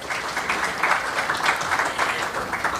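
A crowd applauds steadily, many hands clapping at once in a dense, even burst that carries on throughout.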